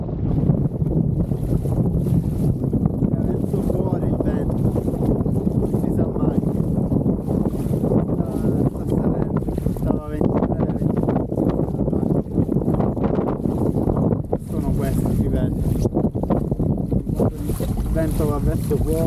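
Strong wind at sea buffets the microphone during kayak fishing, a constant loud roar of gusts with faint water sloshing beneath.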